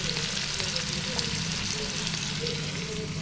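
Onions with a little salt fry in a pan for a broad bean curry, giving a steady, close, continuous sizzle and crackle that stays even throughout.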